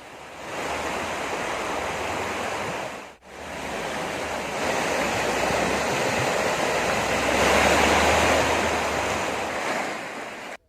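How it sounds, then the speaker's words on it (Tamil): Vasishta river in flood after heavy rain, water surging bank to bank with a steady, loud roaring rush that swells and holds, broken by one brief dip near the start. "இரு கரைகளையும் தொட்டபடி தண்ணீர் ஆர்ப்பரித்து செல்லும் நிலையில்"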